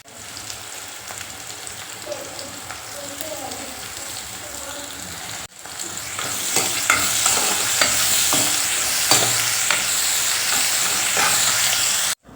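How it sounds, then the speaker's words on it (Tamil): Sliced onions and mint sautéing in hot oil in a pan, a soft sizzle that jumps louder midway, broken by repeated scraping stirs of a spoon; no talking. "ஒரு 3 நிமிஷத்துக்கு நல்லா வதங்கட்டும் எண்ணெயிலேயே"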